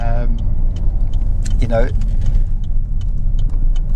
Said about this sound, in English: The car drives absolutely beautifully.